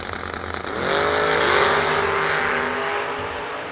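A Vega and a Camaro launch side by side at a drag strip, engines rising into a loud, sustained roar that swells then holds steady as the cars pull away, with no talk over it.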